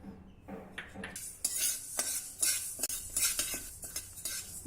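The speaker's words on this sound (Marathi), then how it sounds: "बाजरी अगदी खमंग भाजून झाली" Pearl millet dry-roasting in a kadhai, stirred with a metal spoon that scrapes and clinks against the pan in quick irregular strokes over a soft rustle of grain, close and fairly quiet, without talk.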